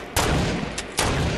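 Several gunshots ring out in a shooter video game, loud sharp cracks over a constant background din.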